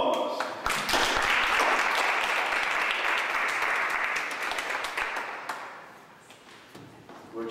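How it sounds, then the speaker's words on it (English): An audience gives a visiting speaker, Brother Maye, a sustained round of applause that swells quickly, holds steady for several seconds and then gradually tapers off. "let's give Brother Maye a round of applause"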